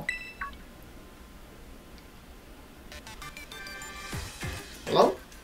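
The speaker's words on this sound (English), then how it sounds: "Phone call." Phone call alert in the video game Pokémon Violet, a short series of electronic beeping ring tones that come in partway through, fairly quiet and close, followed by a brief louder burst.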